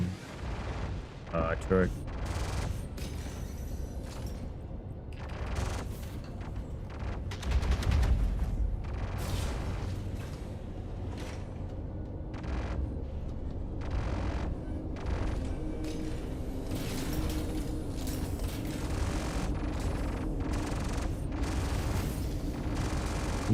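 Torpedoes exploding in the space game Star Citizen, heavy low booms and bursts of gunfire-like impacts recurring throughout amid constant rumbling, with people talking over the action.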